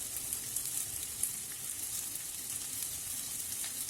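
Chopped onions with a pinch of salt sizzle steadily in a hot oiled pan, a soft continuous frying hiss with faint crackles, no talking.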